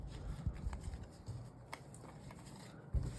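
Yu-Gi-Oh trading cards being shuffled by hand, faint close-up riffling and scraping with a few soft taps, no talking.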